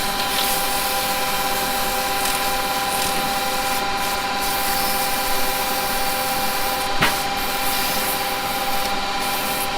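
Sandpaper rubs steadily against a turned wooden piece on a lathe, a continuous close, even scraping hiss with a constant spinning hum underneath and one brief sharper scuff partway through.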